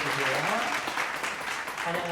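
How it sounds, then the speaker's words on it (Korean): Children on a school program clap to welcome a teacher as she arrives, a continuous patter of applause with a voice and tonal sounds running underneath. "선생님 들어오실 때 박수로 환영해"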